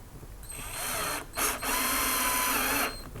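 A 12V cordless drill driver drills into lightweight brick, whirring in two bursts, a shorter one then a longer steady run, with a brief pause between, close and fairly loud.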